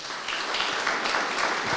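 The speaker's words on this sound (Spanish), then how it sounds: "démosle un aplauso a nuestro Dios" Congregation applauding in a church service, a steady wash of clapping from many hands holding at an even level throughout, with no talk over it.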